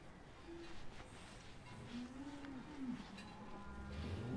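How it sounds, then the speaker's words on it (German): Cows mooing in the Alps while waiting to be decorated for the descent, low drawn-out lowing calls at moderate distance over a faint outdoor background. "So now all the cows are waiting."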